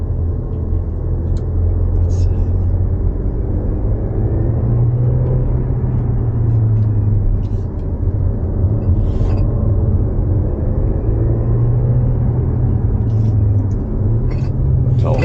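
An Alfa Romeo Tonale Q4 280 PHEV Veloce plug-in hybrid accelerates at full power, a loud steady engine drone with rising and falling pitch heard from inside the cabin, with faint clicks over the top.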